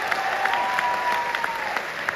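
Applause from a student audience at a college-fest Hindi-Urdu poetry evening, praising a poet: steady, dense clapping filling the hall without a break, with a faint whistle or tone drifting through the middle.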